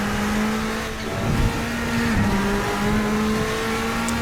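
A Bentley Speed 8 race car in the Assetto Corsa sim howls at steady high revs, its engine note holding with brief dips and small pitch shifts, loud and close with no voices.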